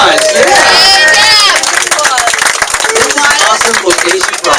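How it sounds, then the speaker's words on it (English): Audience applause and cheering at an indoor holiday networking party, clapping crowd noise mixed with chatter and voices over several seconds. "Give Debbie a big round of applause"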